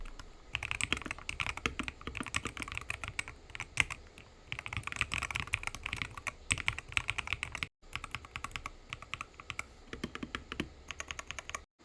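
Mechanical typing on a Mad60HE keyboard, a Wooting-style board, with dense rapid keystrokes clattering continuously in close-up and a brief pause near the end, no voices.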